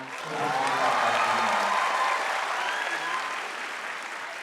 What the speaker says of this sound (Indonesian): Tepuk tangan buat semangat